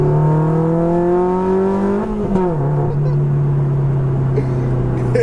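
A loud supercar engine and exhaust drone steadily from inside the car, rising in pitch, then dropping sharply as it shifts before settling into a deep rumble.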